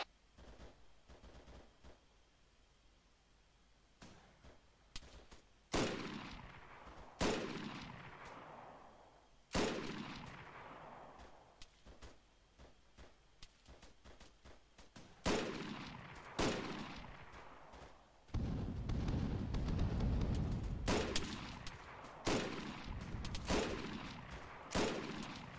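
Repeated gunfire in an Arma 3 co-op battle: sharp shots and short bursts, some close and loud with echoing tails, others farther off, continuing throughout with no talk.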